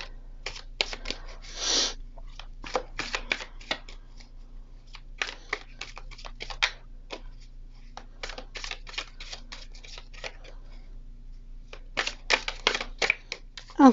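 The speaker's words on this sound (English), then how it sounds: "So let's get to shuffling and see what the week has in store for us all." Tarot cards shuffled by hand, bursts of quick riffling and soft slaps repeating in uneven clusters with short pauses, close and fairly quiet with no talking.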